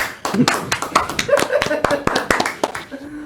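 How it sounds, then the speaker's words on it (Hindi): An audience claps in a short, uneven burst of hand claps, close and fairly loud, with a voice briefly audible beneath the clapping. "ठोको ताली"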